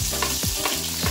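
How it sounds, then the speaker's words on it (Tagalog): Onion and whole, unchopped garlic cloves sauté in oil in a pan, a steady loud sizzle broken by a few scraping stirs, close up with no talking. "Ating igigisa ngayon yung ating sibuyas and yung ating bawang."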